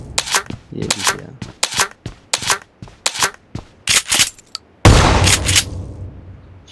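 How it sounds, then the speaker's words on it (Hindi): Shotgun blasts in a video game ring out as a rapid series of sharp, loud cracks, about a dozen close together, ending in one heavier burst with a decaying tail. "शॉटगन चलाना बड़ी मुश्किल लगती है, लेकिन फिर भी काम कर गई है।"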